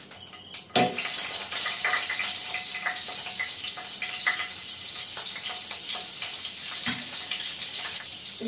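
Butter and ghee sizzle steadily in a hot pan during biryani cooking, a continuous close crackling hiss with a brief clatter near the start and occasional small pops.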